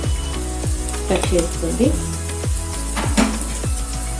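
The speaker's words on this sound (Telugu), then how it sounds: "టమాటాలు వేసుకున్నాను. వేసుకొని బాగా ఫ్రై చేసుకోండి." Chopped tomatoes frying with mutton keema in a pan, a steady sizzle under repeated scraping and knocking of a spoon against the pan, close up.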